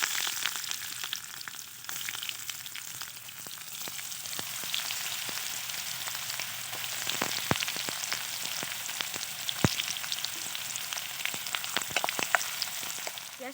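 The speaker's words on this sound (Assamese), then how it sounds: "তেলখিনি গৰম হ'ল এতিয়া পিঁয়াজ আৰু নহৰু দিম" Onion and garlic fry in hot oil with a steady, close sizzle and scattered small pops and crackles throughout, without any voices.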